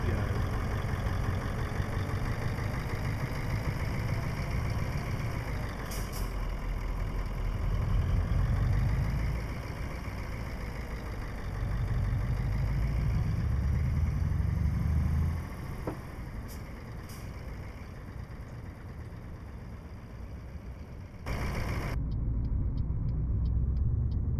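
Truck engine in Euro Truck Simulator 2 rumbling as the rig pulls away, a steady low drone that swells and eases with gear changes, close and continuous with no voices.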